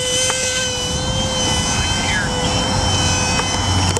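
A 2.4 GHz radio-controlled model airplane on its maiden flight whines with a steady high-pitched electric motor tone outdoors on a windy day, with wind rumble and people talking nearby.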